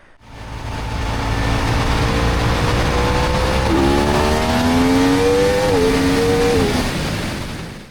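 A Yamaha R1 sport motorcycle accelerates hard during a wheelie control test, its engine note climbing in pitch over several seconds, loud and close, then easing off near the end.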